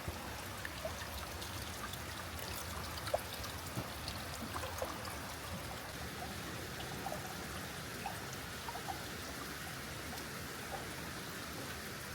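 Water pours down Amicalola Falls during a snowstorm, with icicles formed around the falls. It makes a steady, soft rushing wash with scattered faint drips and no voices throughout.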